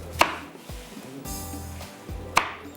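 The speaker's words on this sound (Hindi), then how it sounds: "इसके भी हम 2-2 टुकड़े करेंगे" A knife chops through large tomatoes, cutting them into halves on a board, with a few distinct, sharp cuts spaced apart under quiet kitchen ambience.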